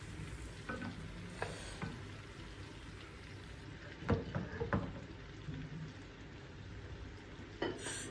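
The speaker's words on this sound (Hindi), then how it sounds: "अब मैं इसे अच्छी तरह इसकी मैं भुनाई करूँगा कि मसाला और जो ऑयल है वो सेपरेट हो जाएं।" Spices being stir-fried in oil for a Pakistani-style onion curry, a quiet continuous sizzle with a few sharp scrapes and knocks of a spoon against the pan.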